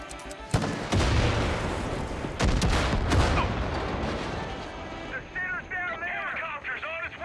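A grenade blast and gunfire in Far Cry 5, a dense roar of explosion and shots with booming bursts, followed by a voice talking over fading rumble.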